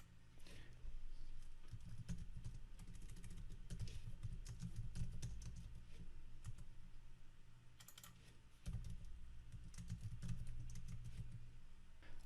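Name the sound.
typing layer names on a computer keyboard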